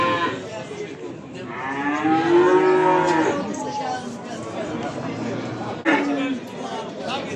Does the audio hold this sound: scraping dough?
no